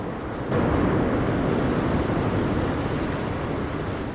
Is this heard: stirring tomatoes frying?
no